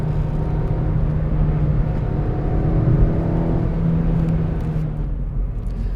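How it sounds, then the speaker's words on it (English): Steady low bass drone from a 2018 Suzuki Swift Sport's exhaust, a discreet even purr heard from inside the car while driving, continuous and unchanging with road rumble beneath. "the discreet bass purr from the exhaust nicely complements the sporty package that Swift Sport is"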